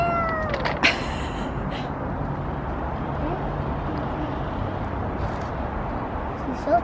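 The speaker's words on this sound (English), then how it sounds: "What does the cat say?" A cat at the front door lets out a clear meow near the start, then gives a fainter call at the end over a quiet background.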